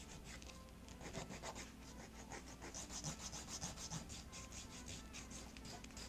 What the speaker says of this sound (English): after I file all of my nails with the nail file